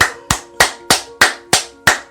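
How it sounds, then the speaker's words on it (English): A booty-clapping sound effect: seven loud, sharp fleshy slaps at an even pace of about three per second, each one decaying quickly, with no voices. "Booty clapping sounds!"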